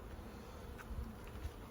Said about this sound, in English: It's a box of bees.